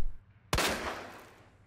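Single loud gunshot in the video game Resident Evil 2 Remake, a sharp crack followed by a decaying echo, heard alone after a short quiet pause.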